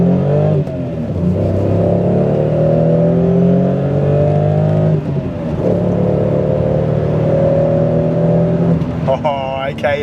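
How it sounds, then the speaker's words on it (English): A Toyota Supra's 2JZ-GE engine pulls steadily while driving, its tone rising through the gears with brief dips at shifts, loud and close, ending in a higher rev near the finish. "the sound of that 2JZ GE, just listen to that"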